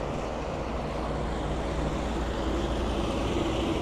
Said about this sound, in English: Loud tractor.